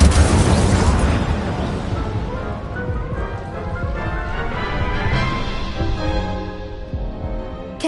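An Incendio fire spell cast in a PS4 Harry Potter-style game, a loud blast followed by a sustained roaring, crackling rumble that slowly fades over several seconds.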